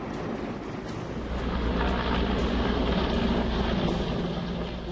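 A firefighting helicopter carrying a water bucket over smouldering forest near the Alaknanda River dam lake, heard as a steady broadband rotor and engine roar with wind buffeting and faint rhythmic thumps throughout, no talking.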